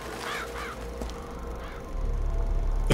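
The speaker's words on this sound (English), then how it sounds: "Like these fucking crows." Crows caw in Bioshock Infinite, a few harsh calls repeating close by over a steady low ambient rumble.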